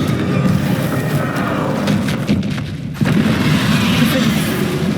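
Confringo spell explosions from the Hogwarts Legacy video game, a loud, sustained wash of booming blasts with a sharp fresh burst near the three-second mark, continuing dense to the end.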